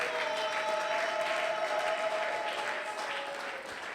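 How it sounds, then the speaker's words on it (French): A church congregation applauds during a Sunday service: continuous, fairly distant clapping from a crowd that holds steady, then thins slightly near the end, with no speech over it. "Nous acclamons encore la parole de Dieu."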